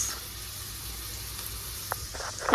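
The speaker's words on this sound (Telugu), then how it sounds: "ఇవి బాగా ఫ్రై అవ్వాలన్నమాట" Onions frying in a pan for poha make a continuous soft sizzling hiss, close and fairly quiet, with a few light stirring clinks near the end.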